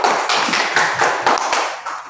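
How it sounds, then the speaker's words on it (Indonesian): Students in a biology class give a short round of rhythmic clapping for a group, about eight evenly spaced, fairly close claps in quick succession that fade slightly toward the end. "Oke, tepuk tangan untuk kelompok 3 dulu."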